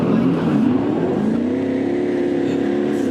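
A Porsche Cayenne Electric SUV accelerates with a smooth, rising electric whine and low road rumble, heard from inside the cabin.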